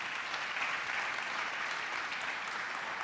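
Steady applause from a church congregation during a service, dense and continuous clapping for the full stretch, with no pauses or voices rising above it.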